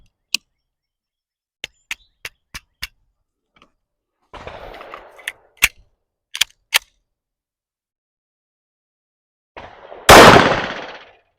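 Sharp, loud pistol shots from a Smith & Wesson M&P 5.7 firing hot loads, a string of separate cracks spaced about a second apart, then a few more after a brief gap of handling noise, ending in a louder burst.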